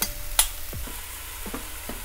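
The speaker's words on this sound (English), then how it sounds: "it's gonna melt here in the pan" Parmesan melts and fries in a pan with a soft, low sizzle, broken by a few light scrapes and clicks from stirring across a couple of seconds.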